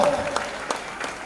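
An audience claps at an award ceremony honouring an animal rescue team in Bhanvad. The claps come in short rhythmic bursts, and a voice is heard at the start.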